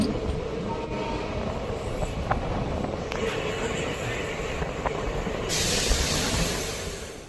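Interior of a Bidar to Kalaburagi DEMU passenger train running via Humnabad as it approaches Tajsultanpur station, a steady loud rumble of wheels and carriage with faint rail clicks, swelling slightly near the end.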